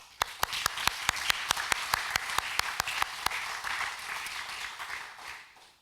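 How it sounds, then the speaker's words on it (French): Audience at a French label award ceremony applauding the companies that renewed their ESR label, with sharp individual claps standing out over a dense round of applause that gradually thins out toward the end. "Je propose de les applaudir toutes très fortes."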